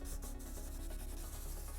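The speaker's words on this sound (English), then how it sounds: "So let's see what happens when we sand it" Medium-grit sandpaper rubbed lightly over a Boba Fett jet pack part, a close, continuous rasping scrub with quick back-and-forth strokes and no talking.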